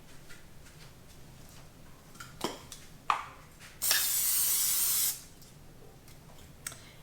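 Cooking spray hisses into a loaf pan in one steady burst of just over a second, preceded by a few light clicks and taps of the can in a quiet kitchen.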